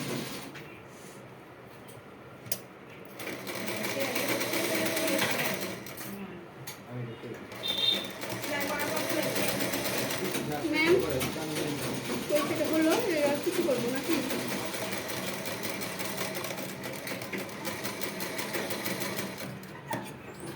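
A sewing machine stitches a churidar neckline in bursts of close, steady whirring with short pauses between runs, while people talk in the background.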